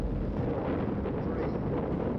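Rocket engines ignite at launch with a steady, broad, deep roar that fills the space and rumbles continuously with no gaps, heavy and dense.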